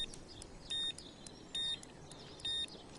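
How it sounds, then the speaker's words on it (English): A fishing bite alarm in a fishing video game, sounding three short, evenly spaced electronic beeps, clear and distinct over a faint background. "And then my alarm goes off."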